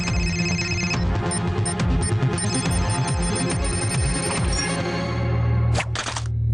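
An animated cartoon phone plays a loud, bright electronic ringtone for an incoming call, a repeating melodic tune that runs for several seconds before cutting off abruptly near the end.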